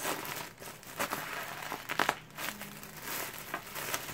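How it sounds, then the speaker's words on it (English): A plastic shipping bag being folded into an envelope shape, with soft continuous crinkling and rustling throughout and a few slightly louder crackles, close and fairly quiet. "first, I throw in my business card in there, and then I just fold it like this."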